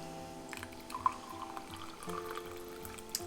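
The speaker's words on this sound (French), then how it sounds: "Je vais verser de l'eau chaude." Hot water is poured from close by during a small studio craft session, giving a quiet, steady trickle and light splashing that runs for a few seconds with no voices.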